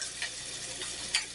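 A burger patty sizzles in a cast iron pan, a steady close crackling hiss with a few faint pops and light stirring sounds, no voices.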